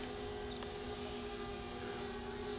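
A plus-size VTOL model aircraft switches into forward flight, giving a steady, constant buzzing drone of motors and props at moderate distance with no talk.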